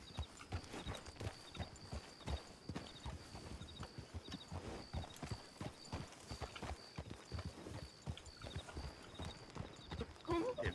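Horse hooves clip-clop steadily and rhythmically in Red Dead Redemption II, a continuous close trot running under occasional talking voices.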